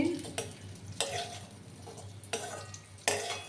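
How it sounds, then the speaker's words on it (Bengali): Wheat flour roasting in a pan over a low gas flame for atta panjiri, with a gentle steady sizzle and about four distinct scraping strokes of a spatula stirring it at uneven intervals, close up and with no voices. "দিয়ে একসাথে আবার ভালো করে আমি ভেজে নিচ্ছি"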